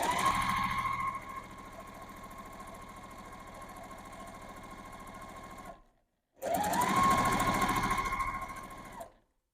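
Sewing machine running steadily as it stitches fabric for half-square triangles at a short stitch length, a close, even mechanical whir that stops briefly then resumes for a few seconds before ending.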